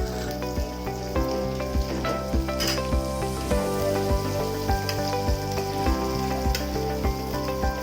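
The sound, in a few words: onions frying in oil with cumin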